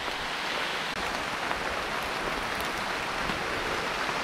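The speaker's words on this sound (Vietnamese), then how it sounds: "Bây giờ mưa chắc mưa lớn luôn rồi." Heavy rain pours outdoors in southern Vietnam during a bee-hive harvesting trip, a dense, even hiss of downpour that holds steady throughout without any voices.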